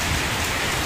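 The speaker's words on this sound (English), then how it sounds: "Heavy rainfall here now," Heavy rain pours down at a monastery in Vietnam, a dense, loud, continuous hiss of drops striking the ground and pond water nearby, with no voices.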